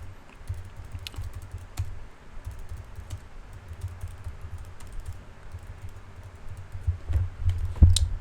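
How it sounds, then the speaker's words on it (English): Someone typing on a computer keyboard, a quick uneven patter of close key clicks with a couple of heavier strokes near the end and a low hum underneath. "So let me type this out real quick one more time."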